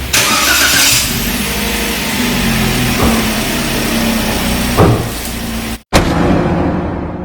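A Toyota Agya GR Sport car engine starts with a cranking burst, then settles into a loud, close idle. A short silent gap comes near the end, followed by the engine noise resuming.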